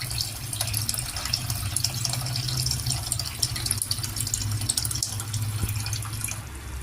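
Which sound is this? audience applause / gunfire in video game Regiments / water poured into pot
water poured into pot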